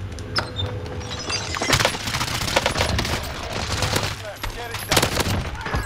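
Sykov pistol firing in a Call of Duty–style shooter match, rapid bursts of gunfire running through the whole stretch, loud and close with heavy repeated shots and brief distant pops between them.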